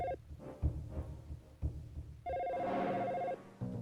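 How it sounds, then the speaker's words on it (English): Telephone paging ring from the Dino Crisis video game, a repeated electronic trill in short bursts with a longer steady tone near the end, over low throbbing background hum. "If you set the line to hold, the phone will continue paging automatically."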